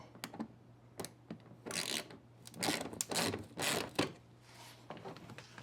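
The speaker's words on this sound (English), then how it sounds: "So, looks like we are going to take out two 7mm bolts. We're currently loosening that up." A ratchet works loose two 7mm bolts on a Ford F150 Lightning during a mud flap install, quiet close-up bursts of clicking and scraping in short uneven runs.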